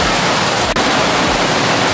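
Heavy rain pours down in a dense, constant roar of falling water, loud and broad with no break, over a flood-prone area.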